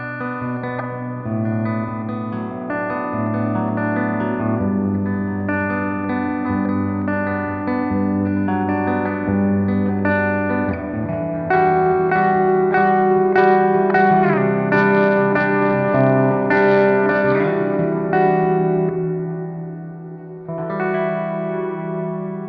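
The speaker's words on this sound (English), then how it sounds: "that's like the reverb of my youth" Electric guitar notes and chords ring out through a wet, spacious reverb effect from a Pigtronix Cosmosis pedal, sustaining and blending into one another, with no talking.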